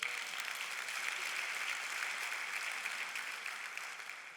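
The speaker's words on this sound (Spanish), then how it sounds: "Dale un aplauso aquí." Church congregation applauding during a sermon, a soft, steady wash of many hands clapping from a distance that slowly fades toward the end, with no talking over it.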